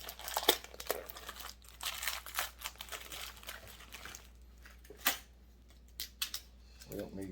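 Packing tape is pulled and peeled off a new Husqvarna 562 XP chainsaw, giving close, quiet crinkling and tearing bursts in an irregular rhythm, with a voice talking over part of it.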